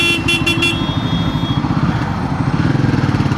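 A 2025 Royal Enfield Himalayan 450 motorcycle's engine runs steadily while riding, with a close, rhythmic thrum and a few short high beeps near the start, and no voices over it.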